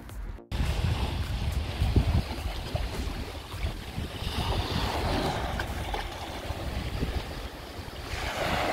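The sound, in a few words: motor boat with Mercury 200 V6 outboard engine running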